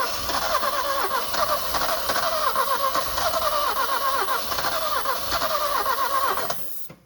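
An Alfa Romeo car engine, refuelled with petrol, runs steadily and fairly loud for about six and a half seconds before cutting off abruptly at the end.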